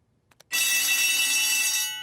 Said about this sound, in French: Nous avons entendu l'alarme.